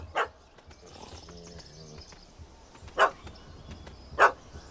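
Dog barking in The Witcher 3 during a wedding quest, three loud sharp barks spaced apart over quiet ambient game sound, with faint low murmuring between them.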